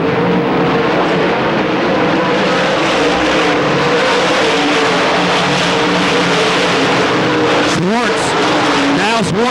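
Dirt track race cars in a 1995 heat roar continuously at full throttle, loud and close, with engine pitch rising and falling as cars pass near the end; race commentary runs over the engine noise.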